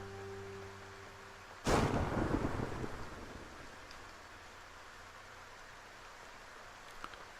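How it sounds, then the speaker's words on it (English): Thunder and lightning in the Titan Souls video game: one sharp thunderclap that swells into a loud, rolling rumble, then fades over a steady bed of rain and wind, with a faint crack near the end and no talk. "And now there's lightning."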